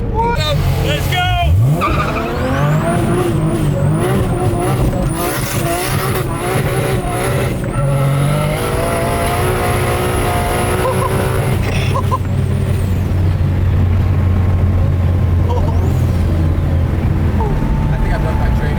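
A car engine revs and accelerates hard through the gears, loud and close, with tire squeal and skidding amid continuous roaring, while people shout and talk over it.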